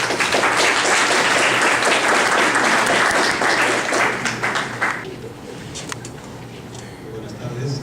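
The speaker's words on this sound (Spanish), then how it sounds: "Fuerte aplauso para poder recibirlo." An audience at an academic conference on ICT in education applauds to welcome a speaker, loud sustained clapping for about five seconds that then thins out and fades, with some voices underneath.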